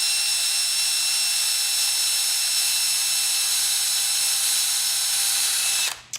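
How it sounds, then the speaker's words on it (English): A pilot drill bores a hole into a fountain pen tube, giving a steady, loud high-pitched whine that runs unbroken for about six seconds before cutting off abruptly at the end. "we begin by drilling a hole"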